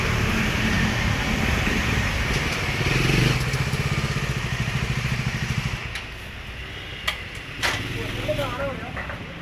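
Touring motorcycles, including BMW bikes ridden by tourists from Kerala, idle and rev close by at a roadside food stop, a steady engine drone under people talking, with a few sharp clicks near the end.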